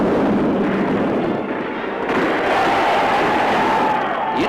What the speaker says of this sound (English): Notice Ivan Armstrong, the all-Russian boy, opening the gate under fire